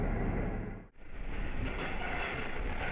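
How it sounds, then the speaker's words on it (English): A train on the Nishikigawa Clearstream Line rumbles along the track near a tunnel, a loud continuous roar with a brief dip before the rolling noise swells again. "The train is passing through the last tunnel on the Nishikigawa Clearstream Line."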